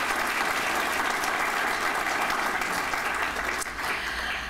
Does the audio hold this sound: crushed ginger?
no